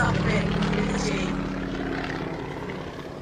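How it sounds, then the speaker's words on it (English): Yak 52, a Russian aircraft with a 360 horsepower nine-cylinder radial engine, drones steadily in flight and stays fairly close, slowly fading a little over a few seconds. "Now the Yak 52, I said, was a Russian aircraft. It's a radial engine there, 360 horsepower, 9-cylinder radial engine."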